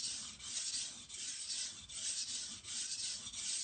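A knife blade is pushed with heavy pressure across a 400 grit KnifePlanet sharpening stone, giving a continuous harsh rasping scrape in repeated even strokes, close and fairly quiet.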